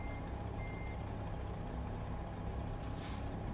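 A Kenworth T660 semi truck in American Truck Simulator comes to rest with a short hiss of air brake near the end, set against a steady engine drone and faint reversing beeps.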